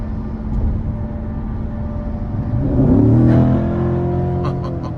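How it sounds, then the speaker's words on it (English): A 2015 Corvette C7 Z51 V8 exhaust rumbles steadily, swelling louder as the engine revs up midway with rising tones, then holding a strong drone; no talking. "You just get that raw Corvette exhaust sound."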